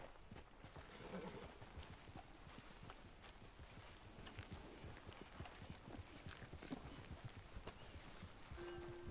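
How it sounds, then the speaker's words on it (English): Horse hooves clip-clop steadily in Red Dead Redemption 2, a dense continuous run of close, loud footfalls with occasional snorts, over game ambience and with no talk. "Grab your horse and let's go."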